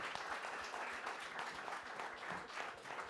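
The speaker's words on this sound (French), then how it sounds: "que je vous demande bien entendu d'applaudir très fort" Audience applause at an Iron Man 3 press conference: a roomful of people clapping in a continuous, fairly busy patter with slight swells, heard at moderate distance and with no speech over it.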